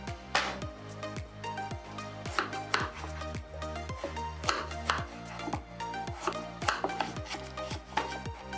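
A knife cuts peeled, seeded pumpkin into cubes on a board, giving a brisk, even run of sharp chops that stay close and clear with no talking.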